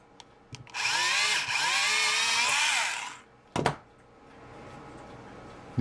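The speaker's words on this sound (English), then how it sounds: "There's no reverse on that drill." A power drill without reverse bores a pilot hole into a plastic model ship: a loud, close whine for about two and a half seconds, then a short second burst after a pause.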